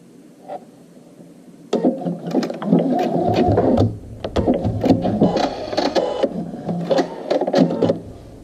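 Sewing machine restitching a straight seam on a zippered front flap, starting after a quiet moment and running in close, steady stitching bursts with short pauses, loud and alone.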